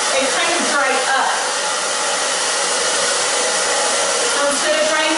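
A hair dryer blows steadily and loudly at close range while short hair is dried upward for styling, a constant airy roar with no pauses.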